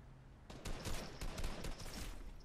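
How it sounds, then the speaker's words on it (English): Sniper gunfire in a Fortnite match, a rapid burst of shots in quick succession with rattling echoes, fairly faint and without talking. "Of course you're sniping from fucking miles away."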